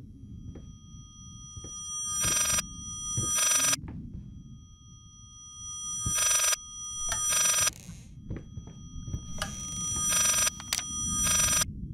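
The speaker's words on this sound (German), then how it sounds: "Da ist ein Telefon in der Wand, hä? Geh mal ran." Old telephone set into a wall in the horror game Layers of Fear, ringing in harsh bursts of bell rings that repeat with pauses between them, loud and close over a low rumbling ambient background.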